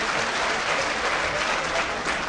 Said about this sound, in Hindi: एक बार लखनऊ शहर के लिए जोरदार तालियां हो जाइए।